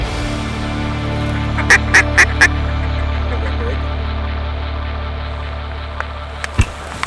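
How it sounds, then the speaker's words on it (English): Mallard ducks on a hunt call in a short burst of four loud nasal quacks close together, followed by a few fainter calls, over steady low outdoor rumble and wind. "That was a nice bunch of great mallards right there."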